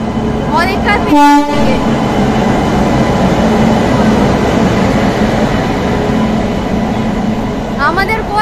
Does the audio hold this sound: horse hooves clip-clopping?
no